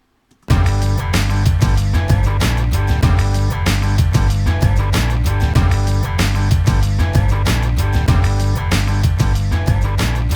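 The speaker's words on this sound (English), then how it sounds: "Snare, hi-hat, kick drum, bass, and an electric slidey guitar." A steady drum loop with snare, hi-hat and kick driving under a bass line and a gliding electric slide guitar, unequalised, full and loud throughout.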